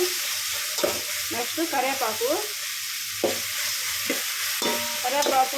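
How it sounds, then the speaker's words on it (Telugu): Tomatoes sizzle over high heat in a hot pan while a utensil scrapes and stirs in short strokes, with a voice speaking briefly over it. "కొంచెం వేగినాయి టమాటాలు."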